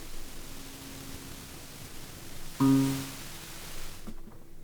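White noise from a modular synthesizer patch with no filtering, a soft steady hiss under a looping tonal drone, with a brief louder burst partway through before the sound cuts off near the end.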